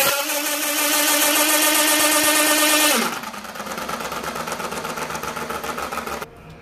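An electric bicycle wheel driven by a single 775 DC motor spins up with a loud, steady high whine and buzz, drops abruptly to a lower, rougher hum after about three seconds, then eases off near the end.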